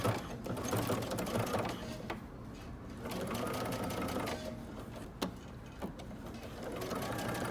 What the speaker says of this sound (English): And now I'm going to stitch close to the edge here, and I'm going to be pulling my coils back as I sew.